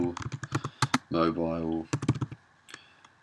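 Quick, light keystrokes on a computer keyboard tap out in short clustered bursts, close and fairly clear, with someone briefly speaking between the typing.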